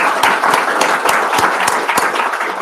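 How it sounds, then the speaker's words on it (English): An audience applauds loudly and steadily for a young speaker at a children's rights report launch, dense clapping with distinct sharper claps throughout and no talk over it. "Another round of applause."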